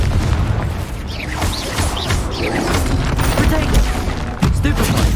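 A Confringo blasting spell explodes in the video game Hogwarts Legacy amid dense, loud battle noise, with booms, crashes and whooshing spell effects layered over each other and a heavy hit near the end.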